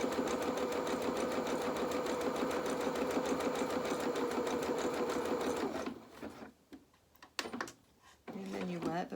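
A sewing machine runs steadily for about six seconds, neatening a pyjama fabric edge around a loop, then stops, leaving brief handling noises and a short voice at the end.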